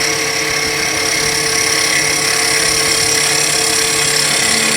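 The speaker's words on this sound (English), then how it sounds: "Planing cut to smooth it up." Wood spinning on a lathe under a skew chisel planing cut gives a continuous, even whirring hum with a steady shaving hiss, loud and close without a break.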